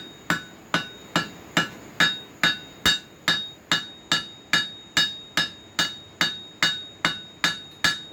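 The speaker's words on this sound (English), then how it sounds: "turn it over and use the ball peen end" A ball peen hammer peens a rivet head on slot jaw tong blanks: about eighteen loud, ringing metallic strikes fall in a steady, even rhythm, each one decaying quickly before the next, with no talk.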